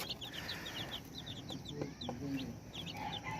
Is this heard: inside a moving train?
no